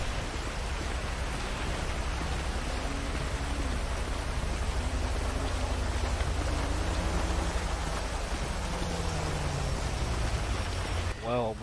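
Steady rain hisses across a Grand Theft Auto 5 street scene as an even, constant wash of noise, with a voice talking faintly underneath and a brief chirp near the end.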